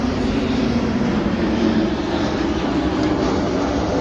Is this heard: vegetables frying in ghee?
no